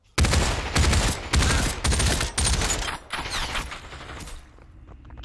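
Rapid automatic gunfire in the VR battle royale game Population One, loud sustained bursts with brief breaks, followed by a quieter tail.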